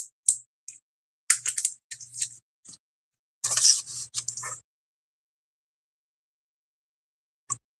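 Scissors cutting paper shapes out of die-cut sheets one piece at a time: close, crisp snips in short irregular bursts separated by silent gaps, with no talking.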